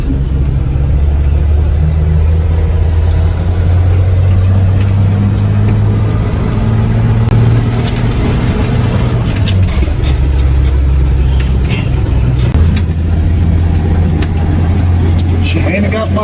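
A 1961 Ford engine, freshly retuned with looser valves and advanced timing, runs steadily close by with a low, throbbing idle, its pitch rising and falling with a few revs, while people talk intermittently over it.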